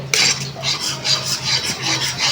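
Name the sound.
stirring gram flour into hot oil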